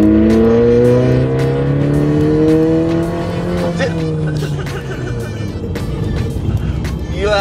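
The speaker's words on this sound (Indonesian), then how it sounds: "Pop and bang, woi, popcorn" A remapped VW Golf Mk6 1.4 TSI revs and then falls off throttle, its exhaust firing a rapid string of sharp crackling pops and bangs close by while people talk over it.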